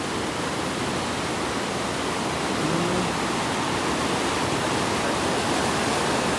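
Water of the Alaknanda river at Karnaprayag sangam in Uttarakhand rushes past in a loud, steady, broadband roar, continuous and unbroken throughout, with no speech.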